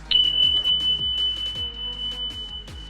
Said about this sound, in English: carry out the test by pressing the test button for a few seconds to make the detector sound